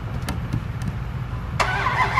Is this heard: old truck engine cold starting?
yes